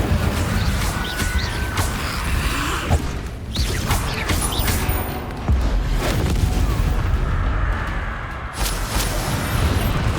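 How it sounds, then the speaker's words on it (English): Incendio and Confringo fire and blast spells go off in the video game Hogwarts Legacy as a rapid, continuous barrage of loud booming explosions and crashing impacts, with brief dips between the bursts. "Incendio! Confringo! Incendio!"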